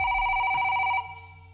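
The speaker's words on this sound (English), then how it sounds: "I think I'm getting a phone call." Telephone ringing in the game The Return To Freddy's, one steady electronic ring burst that cuts off after about a second, leaving a faint low hum, close with no voices.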